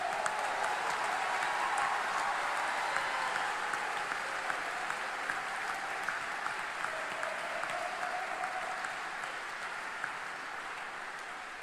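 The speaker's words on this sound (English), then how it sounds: "give the graduates one last round of applause" An audience at a University of Kentucky law school graduation gives the graduates a final round of applause, a dense, steady wash of clapping that holds for several seconds and slowly tapers, with no talk over it.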